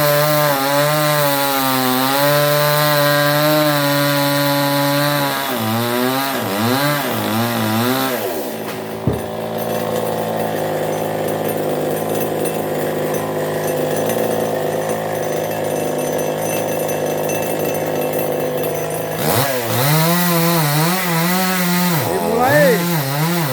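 Chainsaw with a steady, loud harmonic drone cutting a tree near homes during logging from above, running almost continuously with a few revving pitch swings and a brief cut-off midway.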